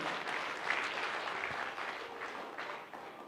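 Steady audience applause fills a motivational training session, a dense continuous wash of many hands clapping at even loudness from start to finish.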